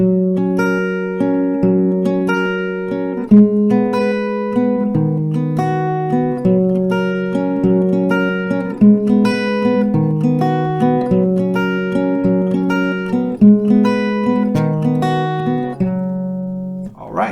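An acoustic guitar plays a repeating picked chord progression, bright plucked notes ringing clearly in an even rhythm for several rounds, with no voices.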